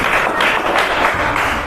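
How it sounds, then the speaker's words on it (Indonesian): Schoolchildren in an Indonesian primary classroom clap together in a steady burst, a dense, continuous patter of many small hands close by with no talking over it. "tepuk tangan"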